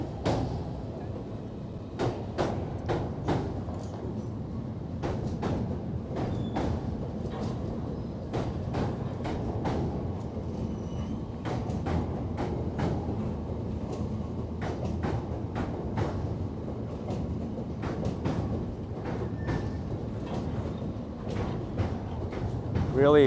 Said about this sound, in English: Is that a train coming now?